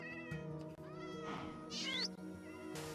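Cats meowing in Minecraft VR, several close, clear meows in a row, one rising into a drawn-out high cry, over steady background game audio.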